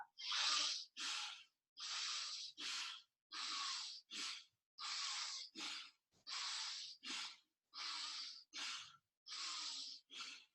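A woman does a dynamic breathing exercise in a yoga-style session: strong, hissing nasal breaths repeat in a steady rhythm, a longer exhale followed by a short sharp one, about a dozen bursts, close and loud with no speech.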